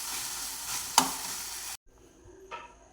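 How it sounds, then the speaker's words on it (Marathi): Village-style green chilli bhaji is stirred in hot oil in a pan, giving a close sizzle with a sharp spatula scrape near the start, then the sound cuts off abruptly to faint, quiet stirring. "आपण वरतून तेल टाकून घेऊया। परत मिक्स करायची 2 मिनिटासाठी।"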